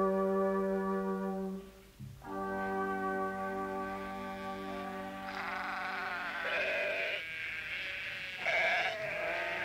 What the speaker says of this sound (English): What forester will ever forget those sheep?